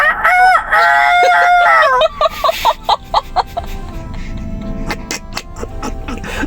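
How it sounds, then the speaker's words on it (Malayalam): A rooster crows loudly and clearly, played back for a newborn baby, followed by a string of shorter clucks and chicken calls; the sound is close and fills the whole stretch. "അടുത്ത കോഴി."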